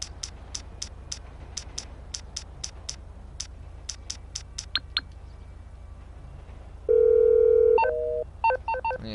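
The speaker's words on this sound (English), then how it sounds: "Let me try call you." Telephone keypad tones beep in quick, evenly spaced presses, a long run of short bright blips, followed by a steady held tone and a few more rapid beeps at the close, all fairly near and clear.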